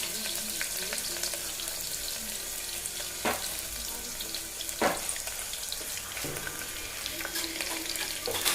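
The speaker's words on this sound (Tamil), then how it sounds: "நல்லா வெங்காயம் நல்லா வேகிற மாதிரி நல்லா துளாவி கொடுத்துக்கணும்" Large onions and curry leaves fry in a pan for a millet kichdi, a continuous sizzle under repeated scraping strokes of a spoon stirring the pan, with a few sharper clanks along the way.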